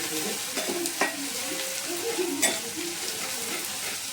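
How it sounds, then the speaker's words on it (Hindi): Asafoetida and ginger-garlic-chilli paste fry gently in oil over a low gas flame, a soft steady sizzle with occasional spoon stirs and scrapes. "इस पर हम डालेंगे थोड़ी सी हिंग और अदरक लहसुन मिर्ची का कूटा हुआ पेस्ट, और थोड़ा स्लो गैस पे पकाएंगे"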